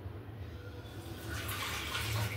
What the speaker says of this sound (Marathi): जरी धुतलेली असली तरी आपण त्याला स्वच्छ धुतो.